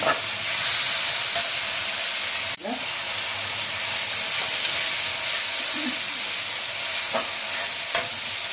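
A prawn curry with ridge gourd and potato cooks in a pan, giving a steady, close sizzling hiss with a sharp knock and a few light clinks from stirring.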